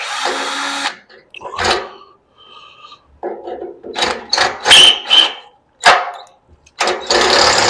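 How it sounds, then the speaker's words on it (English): A hand drill boring into a bolt head that has been cut with a cross using a cutoff wheel, heard as several short, loud bursts of whirring and grinding separated by pauses, starting and stopping repeatedly at close range. "so hopefully I can get a drill in it now."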